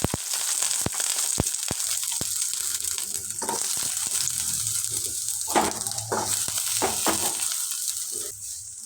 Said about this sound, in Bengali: তেলটা একটু গরম হয়ে গেলে তাতে এই পেঁয়াজটা দিয়ে দিচ্ছি, গোটা গোটা করে কেটে রাখা পেঁয়াজ।